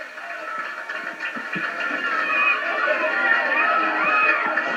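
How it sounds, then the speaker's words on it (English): A crowd at a Dublin minor Gaelic football championship final reacts to a goal, a broad roar of voices swelling and holding steady from the surroundings, with indistinct shouting and no clear commentary. "You can hear the reaction from the crowd all around."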